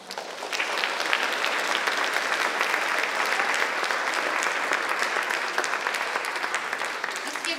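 Sustained, dense applause from an audience at an elementary school fine arts awards assembly, steady and full for the whole stretch after sixth-grade winners are announced.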